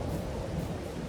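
Rain and thunder in the Farming Simulator video game make a steady, dense rumbling hiss that runs without a break through a brief stretch.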